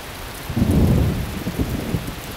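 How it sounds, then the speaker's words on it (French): A small clap of thunder during a rain shower, a brief low rumble swelling up loudly over steady rainfall and fading within about two seconds. "Il y a eu un petit coup de tonnerre."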